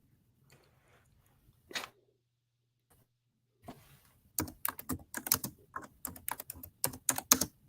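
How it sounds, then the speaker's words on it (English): Rapid clicking of keys on a computer keyboard, starting with a few isolated taps and then building into a quick, steady burst of typing, close up. "Now I can hear you typing good now."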